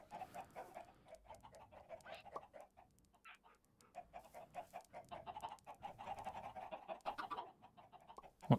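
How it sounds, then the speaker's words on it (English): Minecraft chickens clucking softly in short repeated bursts, faint and fairly steady throughout, with no one talking. "I hear a chicken?"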